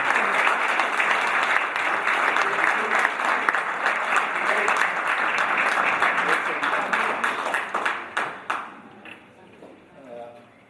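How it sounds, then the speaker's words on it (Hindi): Loud, sustained audience applause at a mushaira poetry gathering in Melbourne, a dense wash of many hands clapping that thins into scattered claps near the end. "कामयाब मुशायरे के लिए एक बार जोरदार ताली बजा करते हैं"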